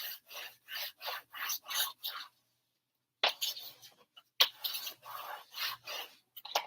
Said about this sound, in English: So burnish it.